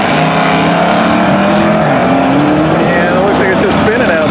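A Dodge Challenger Demon 170 spins its tires on a quarter-mile drag strip, a loud, saturated engine roar with rising and wavering pitch that fills the whole moment, with voices mixed in.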